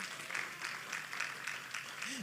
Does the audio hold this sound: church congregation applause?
yes